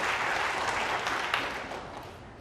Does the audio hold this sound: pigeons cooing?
no